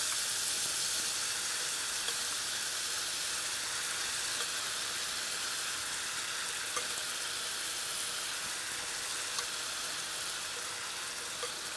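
Vegetable ratatouille sizzles steadily in a hot frying pan, a continuous bright crackling hiss with occasional small pops, no voices.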